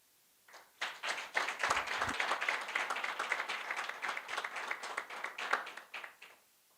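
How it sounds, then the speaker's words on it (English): Audience applause at an awards luncheon, a warm round of clapping from a seated crowd that swells quickly and holds steady for several seconds before fading out. "They need a huge, warm round of applause, please."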